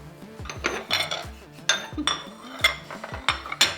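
Plates, bowls and metal straws clink and clatter as they are handled, a run of sharp, close percussive knocks and rattles at an uneven pace with no talk.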